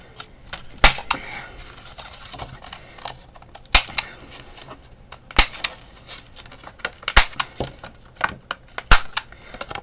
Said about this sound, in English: I did not round the corners of my card blank, so I'm going to do that now